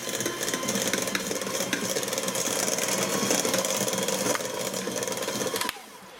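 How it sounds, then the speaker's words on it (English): A hand mixer beats softened butter in a bowl, producing a steady motor whir with a rough, rattling texture through most of the clip before the sound abruptly drops off near the end. "I'm just gonna beat that with hand mixer for a little bit."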